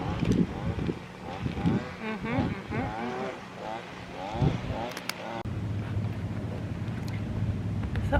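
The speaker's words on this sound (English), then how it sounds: "I'm just enjoying the breeze" An outdoor breeze on a calm day in Rockport, Texas, buffeting the microphone as a steady rumble. Speech is heard in the first half, and the wind grows more constant after it.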